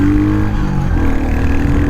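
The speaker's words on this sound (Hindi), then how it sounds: "स्टार्ट है इंजन, रिफाइंड इंजन है" A Royal Enfield Hunter 350 motorcycle engine runs loud and close, its steady throbbing exhaust note rising slightly in pitch as it pulls away under acceleration, with no voices.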